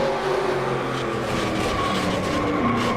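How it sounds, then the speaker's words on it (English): Race cars roar in a NASCAR video game at Daytona, engines droning steadily with a scraping, skidding edge as a wreck unfolds, dense and continuous throughout. "Oh no, Trent slammed somebody hard."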